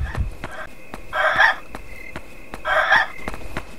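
Chickens in the video game Yomawari Night Alone give two loud, close clucking calls about a second and a half apart, over a steady ticking rhythm and a faint background tone.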